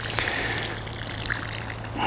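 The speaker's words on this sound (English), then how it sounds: "I'll usually mix some up after I get them planted, water them with it just a little bit," Root stimulant mix (Kangaroo Roots) is poured over newly planted onions in a garden bed, giving a soft continuous trickle and splash of water, close by and with no talking.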